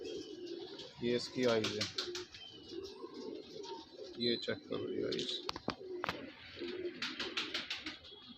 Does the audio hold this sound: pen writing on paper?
no